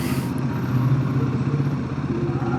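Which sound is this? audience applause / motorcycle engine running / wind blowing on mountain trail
motorcycle engine running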